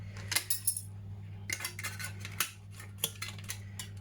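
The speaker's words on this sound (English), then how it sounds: "Just get your scissors around there," Scissors snip through thin tin-can metal to cut out a flower petal, giving a series of sharp metallic clicks and crunches in uneven bursts over a steady low hum, with no talking.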